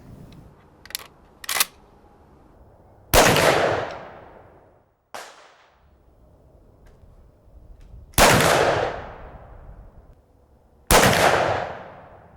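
A Remington 870 pump shotgun with an upgraded Blackhawk stock, fired outdoors on a shooting field: three loud, sharp blasts, each trailing off in a long echo, with smaller clicks and clacks from the action in between.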